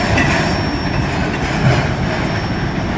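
A CSX freight train rolls past the Gardner, Massachusetts station on a cool October evening, a steady, loud rumble of rail cars with rhythmic clickety-clack and faint wheel squeal throughout, no talking.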